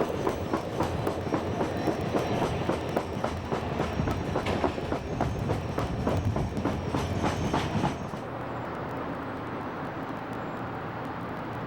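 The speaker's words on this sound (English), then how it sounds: "The train departs from Pittsburgh Station in the middle of the night." A passenger train rolls along rails near Pittsburgh at night, with a steady loud rumble and rhythmic clickety-clack of wheels over rail joints that shifts to a smoother, softer roar near the end.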